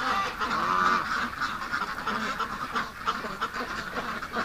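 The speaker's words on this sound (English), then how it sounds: "the ducks get all panicked" A flock of ducks, including a Muscovy, calls in a pen, a dense, nonstop chorus of nasal quacks and honks that overlap close by, loudest at the start and continuing throughout.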